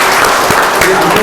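Loud applause from a Korean forum audience in a National Assembly members' hall, a close, dense burst of clapping with some voices mixed in.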